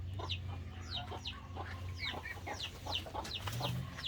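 Several chickens cluck and squawk in quick, overlapping bursts, with a low steady hum underneath throughout.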